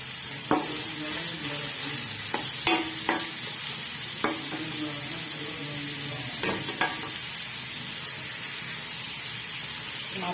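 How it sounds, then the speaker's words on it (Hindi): Browned chicken pieces and tomatoes fry for biryani, a steady close sizzle broken by a few sharp clinks and scrapes of a spoon stirring the pan, with no talking. "टमाटर डाल के भूनते हैं इसको"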